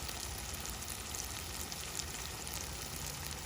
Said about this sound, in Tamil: இப்போ இது ஒரு 1 மினிட் வரைக்கும் இந்த எண்ணெயிலே கொஞ்சம் நல்லா வதக்கிடுங்க